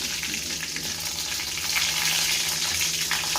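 Dried red chillies sizzle and crackle in hot oil for a tamarind chutney, a steady, close frying hiss that swells slightly midway, with no voices.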